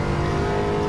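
A 2013 Dodge Viper GTS engine pulls hard on a race track, a dense, steady loud roar over a brief moment.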